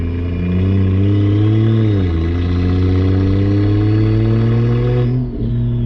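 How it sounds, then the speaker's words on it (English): A big-turbo BMW 335 exhaust drones steadily and loudly up close, a deep sustained hum with a slight pitch dip near the end as the engine eases off. "hopefully you guys can hear me over the drone of the exhaust right now"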